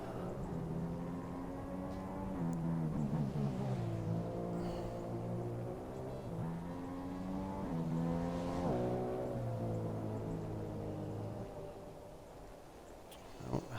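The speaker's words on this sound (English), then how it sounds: "into the pits comes the leader for a final run to the end" An F1 race car in a racing video game at the Spanish Grand Prix pulls into the pits, its engine a steady, loud whine that rises and falls in pitch through gear changes for most of the run before dropping near the end.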